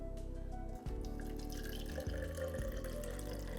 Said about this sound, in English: I'm going to add 200 ml of water